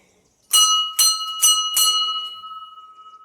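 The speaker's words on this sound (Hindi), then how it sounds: "और ऊपर भी घंटी लगा रखी है।" A bell hung above a Himalayan shrine is struck four times in quick succession, each clear metallic ding ringing bright and loud before a long sustained tone fades away alone.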